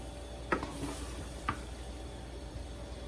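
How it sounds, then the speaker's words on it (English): A spoon stirs a pot of potato and ham soup with chunks of potato, making soft, faint scraping and squishing sounds over a low hiss, with a couple of brief knocks. "you do want to stir on the bottom and make sure that it doesn't get stuck"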